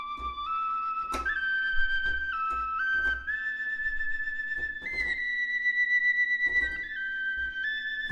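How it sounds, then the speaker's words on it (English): A sampled Shire whistle from an Embertone virtual instrument plays a slow melody of clear, pure sustained notes that glide between pitches, with soft breathy attacks and plain tone throughout. "Oh, there it is, the Shire whistle."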